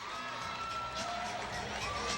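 Crowd noise in the arena at a women's college gymnastics meet, a steady distant murmur of spectators with faint cheering and music underneath.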